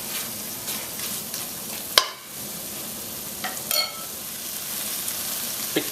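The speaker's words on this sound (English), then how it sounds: "you're also going to hear that sort of a sizzle" Caribbean stewed beef base sizzling and frying in a pan as the last of the liquid cooks off, a steady close crackle with a sharp clatter and a few brief stirring scrapes.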